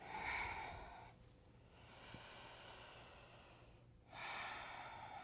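Breath exhaled during a gentle yoga flow, heard as soft, airy breathing that swells and fades in a few slow waves, quiet and close, with no talking.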